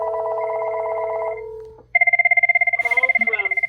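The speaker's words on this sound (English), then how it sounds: "phone's ringing" Incoming call on a phone line connected through a FreePBX system: an electronic telephone ring with a steady tone that breaks off, then a faster warbling pulsed ring, loud and close, with no voices.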